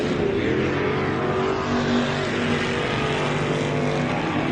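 Off-road race buggies at the MetalCloak Stampede, one on Nitto tires and another a 19 IFS machine, give a loud, continuous engine roar with a rising and falling drone as they drive the course.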